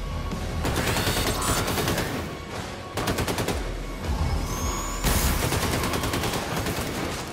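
Rapid automatic rifle fire from the video game Wolfenstein 2 rattles in loud sustained bursts, with short pauses between volleys and no talking.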